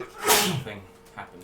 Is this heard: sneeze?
yes